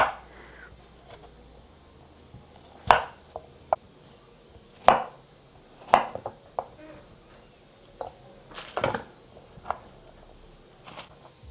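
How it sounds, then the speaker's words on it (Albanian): Seasonal vegetables are chopped on a board for a summer turli stew, sharp knife strikes landing one at a time at irregular intervals, close and crisp against a quiet kitchen. "unë merre me prerjen e zarzavateve që do përdor për këtë lloj gatimi"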